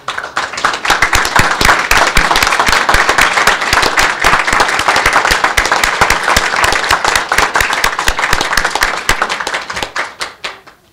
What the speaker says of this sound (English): give applause to your family